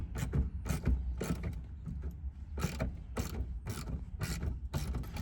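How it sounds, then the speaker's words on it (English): A hand ratchet tightens bolts on an Acura Integra during a rebuild, giving close, loud bursts of rapid clicking in repeated strokes over a low background rumble. "Tightening up the last bolts."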